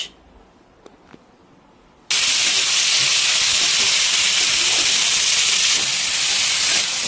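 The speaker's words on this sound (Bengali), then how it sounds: "এই যে পেঁয়াজটা যেটা ভাজা চলছে, দেখুন আপাতত এখন তো হাই ফ্লেমেই চলছে।" Sliced onions frying in oil over a high flame for a Bengali katla fish kalia; a quiet start gives way to a sudden, loud, steady sizzle and hiss that continues to the end.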